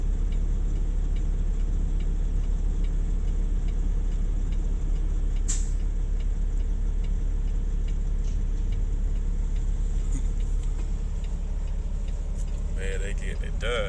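Winch truck working at an oil rig dismantling site, a steady loud engine drone with low rumble, occasional clanks and a brief hiss, heard up close under muffled talk.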